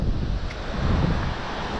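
Wind and surf roar together at a beach in Arraial do Cabo on a stormy, cyclone-like day, a steady loud broadband rush with heavy low rumble and no talking.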